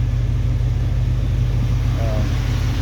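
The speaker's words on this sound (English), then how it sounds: "Motor runs really good, doesn't smoke or nothing." A 1975 Jeep CJ5 engine, still a little cold, runs at a steady idle with a deep, even low rumble that stays constant from start to finish.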